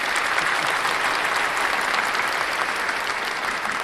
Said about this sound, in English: I guess we've got to give that a round of applause as well